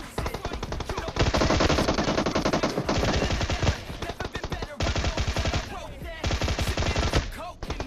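Dense assault rifle and DMR fire rattles in PUBG near Georgopol, in long rapid bursts broken by brief pauses, loud and close.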